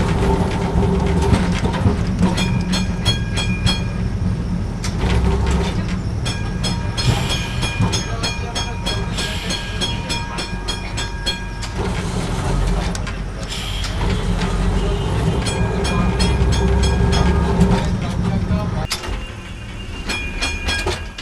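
A tram in West Bengal rumbles and clatters along its rails, a loud continuous mechanical roar with intermittent clicks and rattles, close by, with no clear speech.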